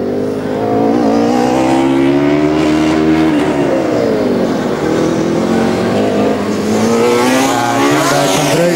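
A Formula Student race car on an endurance track screams past close by, its high-revving engine loud and continuous with rising and falling pitch as it passes and shifts gears.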